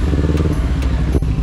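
A motorcycle engine runs loud and close, a steady rough rumble with some mechanical clatter and no talking.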